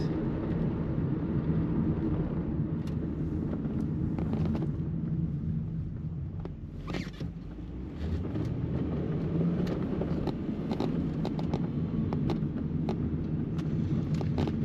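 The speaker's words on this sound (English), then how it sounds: "that automatic transmission, when you push the throttle down, it does kick down" A 2004 Ford Thunderbird Pacific Coast Edition with automatic transmission drives on the road, its engine roaring steadily with a brief dip as the gearbox kicks down and revs climb again, close and loud throughout.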